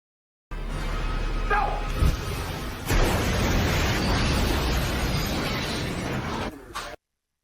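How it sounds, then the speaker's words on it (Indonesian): An explosion at a hospital bursts loud and close, with a heavy rumbling blast and shattering debris that roars on for several seconds before cutting off abruptly. "Tak lama setelah itu, ledakan pun terjadi."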